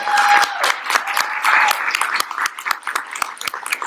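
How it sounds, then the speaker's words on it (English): An audience at a university Three Minute Thesis competition applauds the event organizer; the clapping starts full with a brief tone at the outset, then thins into scattered individual claps that fade out. "Let's give her a round of applause"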